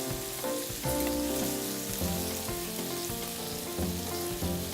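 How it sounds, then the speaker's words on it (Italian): Bacon sizzles in a pan on an induction hob, a steady, dense crackle running unbroken through the whole stretch with a sustained tonal hum beneath it. "controlliamo nel frattempo che fa un po' di fumo il nostro bacon che non bruci"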